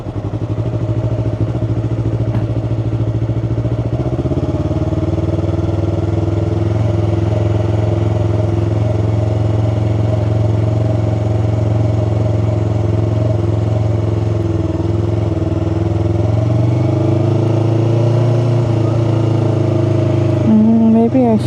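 A Yamaha R3 motorcycle engine drones loudly and steadily from the rider's position, the pitch rising and dropping as the bike shifts gears and rides through turns, with wind noise around it.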